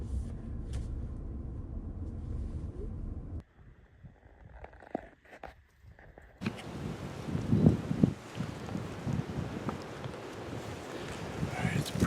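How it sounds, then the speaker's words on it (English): Strong morning wind buffets the microphone outdoors during a spring turkey hunt in Maryland, a rumbling low roar that drops away briefly in the middle and then returns gusty and rough. "it's pretty windy this morning"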